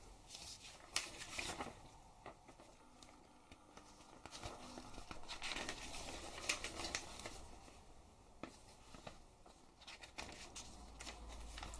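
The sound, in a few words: flipping through pages of a paper instruction manual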